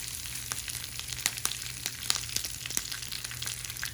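Curry leaves hit hot oil after mustard seeds for a jackfruit stir fry, producing a dense, steady close sizzle scattered with small sharp pops and crackles.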